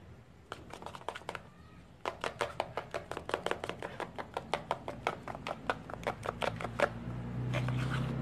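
A spoon mixes aloe vera gel in a container, producing quick repeated sharp taps and scrapes in fast, steady bursts, close and clear, with a brief pause before a longer run of strokes.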